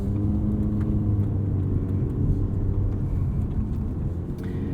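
A 2021 Toyota C-HR Nightshade on the move, heard from inside the cabin as a steady low road and engine rumble with tyre noise, even and continuous throughout, with no talking.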